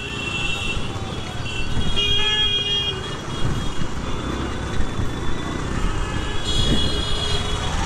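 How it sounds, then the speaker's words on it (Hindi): Dense, congested street traffic with cars and scooters pushing in from all sides, horns tooting in short bursts over a steady roar of engines, loud and close throughout. "ओ भाई कितना ट्रैफिक है यहाँ पे"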